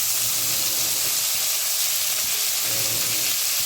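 Chopped tomato frying in a pan for a Bengali crab curry, giving a steady close sizzle and hiss throughout with no talk.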